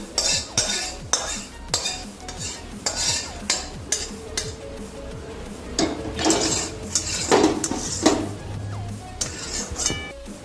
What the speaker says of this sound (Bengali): এই যে রান্নাটা আছে পাত্রে ঢেলে নিচ্ছি